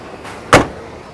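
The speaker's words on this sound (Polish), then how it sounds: "co zrobić, żeby w moim Fiacie się tak drzwi zamykały?" A door on a 1971 Polski Fiat 125p shuts with a single solid, close thump, preceded by a faint rustle, with no talk.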